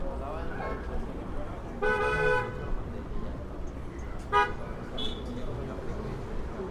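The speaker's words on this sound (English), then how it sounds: "There's a lot of traffic building up here." Busy street traffic on Fordham Road in the Bronx, with an engine rumble running throughout, two clear car horn honks partway through and a shorter toot near the end, and people talking nearby.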